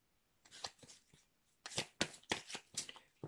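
Oracle cards from a deck are handled and drawn, producing a few soft papery riffles and slaps in short bursts, quiet and close with gaps of near silence between them.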